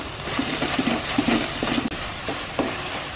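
A spoon stirs a milk cake mixture in a pan after two spoons of desi ghee go in, giving soft scraping strokes in an irregular rhythm over a low sizzle, with no talk.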